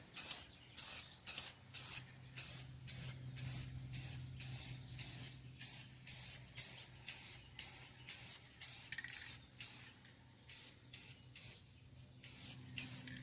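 Repeated short bursts of aerosol spray paint on a 2011 Subaru Outback bumper trim, about two dozen evenly spaced hisses in steady rhythm, close and fairly loud with no talking.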